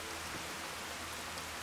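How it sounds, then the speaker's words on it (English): Loud, steady rain pours down without a break in Fallout: Tale of Two Wastelands, a dense wash of hiss that fills the whole scene with no other sounds over it. "This rain's pretty damn loud."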